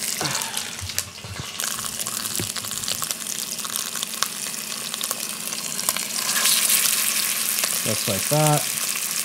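Unseasoned beef short ribs sear in a pan over near-maximum heat, giving a steady, dense sizzle throughout, with a short spoken phrase near the end.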